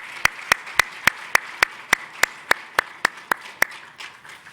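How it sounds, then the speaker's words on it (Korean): A congregation at a Sunday morning church service claps for the choir: about fifteen sharp, evenly spaced claps in a steady unison rhythm, fairly close and clear over a quiet room. "우리 성가대 찬양 위해서 하나님께 영광 드리며 다 같이 박수 한번 쳐주시겠어요?"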